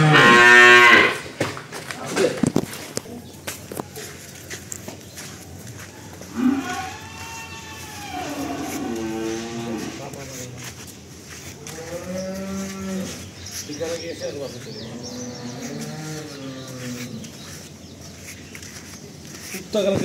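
A Friesian dairy cow moos loudly and repeatedly in long drawn-out calls at close range, with people talking around it at a cattle sale.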